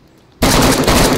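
Gunfire in the video game DayZ during a fight in Cherno, a sudden loud burst of rapid shots that starts abruptly after brief quiet and continues to the end.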